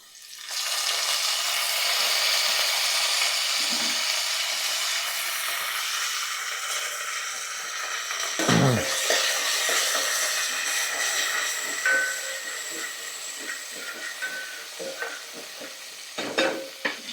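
Ajwain and fenugreek seeds sizzle loudly and steadily in hot oil in a home kitchen, a dense continuous frying hiss with occasional stirring clinks toward the end, no talking.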